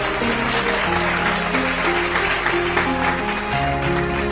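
A church congregation at a sermon claps and acclaims together, steady continuous applause and cheering blended with sustained music tones throughout.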